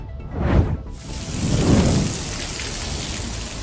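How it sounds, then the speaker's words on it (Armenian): Heavy rain pours down on a city street in New York during a strong storm, a dense, loud hiss with low rumbling surges in the first two seconds. "Նյու Յորքում տեղացած հորդառատ անձրևների եւ հզոր փոթորիկների հետևանքով"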